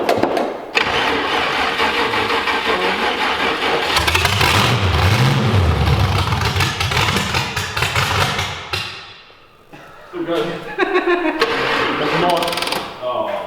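A rotary-engine car is cranked and started, with a grinding starter, engine sputter and brief revving, loud and close under people talking, then a short dip before more cranking sounds.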